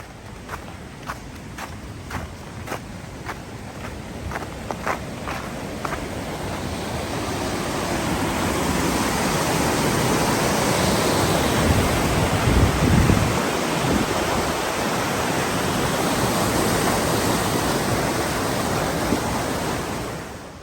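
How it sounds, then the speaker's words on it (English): A waterfall rushes steadily as heard from its top in Bruce Peninsula National Park on a cold day, a broad continuous roar that builds and stays loud after a few crunching footsteps at the start. "top of the waterfall, looking down."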